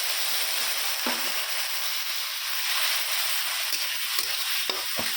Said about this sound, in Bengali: পেঁয়াজ দিয়ে ভেজে নিচ্ছি।